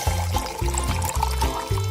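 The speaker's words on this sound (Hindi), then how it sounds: "और अब इसमें थोड़ा पानी मिलाया।" Water is poured into a cup of coffee in a home kitchen, making a short liquid pour with bubbling, gurgling pulses over a low rhythmic hum in the background.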